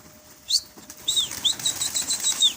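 Rapid bursts of wing flapping from birds taking off, several flurries in quick succession, close and fairly loud, with a few faint chirps and no talking.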